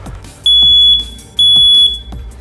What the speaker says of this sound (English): we're going to have to check the alarm and make sure that the battery is new or replaced